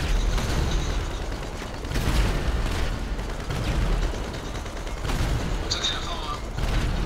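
A tank cannon fires in GTA 5: several heavy booms land a few seconds apart, each a deep thudding blast amid ongoing gunfire and rumbling vehicle and combat noise.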